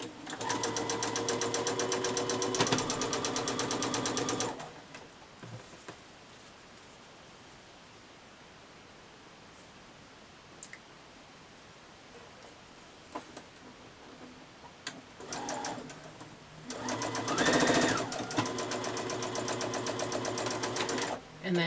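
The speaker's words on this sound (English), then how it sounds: "Sew them into pairs, which are my rows, and then sew my rows together to make the block" A sewing machine stitches quilt block rows together for a mini quilt, running in a loud steady whir for about four seconds, pausing in near silence, then starting up again for a second run.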